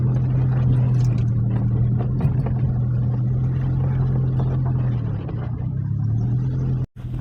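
A motorcycle engine drones steadily at a low pitch throughout, rumbling and bumping along a rocky road near Garut, Indonesia, with a sharp knock near the end.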